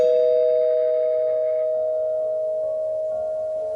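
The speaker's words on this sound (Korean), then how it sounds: "찾아올 사람이 없는 집에 초인종이 울렸고" Electronic doorbell tone used as an effect in a spoken horror story, a single sustained pure chime holding steady and slowly fading over nearly four seconds, clear and alone with no talk.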